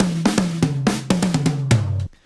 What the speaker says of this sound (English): So I have here a drum loop.